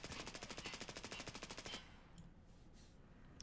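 Automatic hipfire bursts in the shooter game Escape From Tarkov, a rapid even string of about twenty loud close shots that stops abruptly, followed by quieter background noise.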